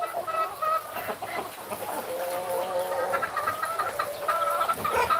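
A hen and rooster cluck close by in short, repeated bursts, a busy run of clucks and calls over about five seconds.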